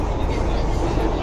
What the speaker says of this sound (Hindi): हम लोग बैठे हैं मेट्रो ट्रेन में दिल्ली से। इतने शोर में आवाज भी नहीं सुनाई दे रही होगी